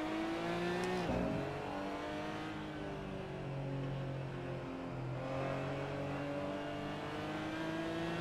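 Porsche GT4 Clubsport race car in a sim racing game at the Nürburgring, its engine roaring steadily and climbing in pitch under throttle, loud and continuous with no pauses.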